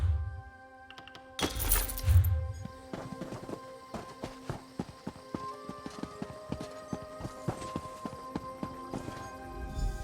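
Hooves clip-clop in an uneven patter at a stable merchant in Elder Scrolls Online, with a horse snorting and whinnying near the start before the steady footfalls take over.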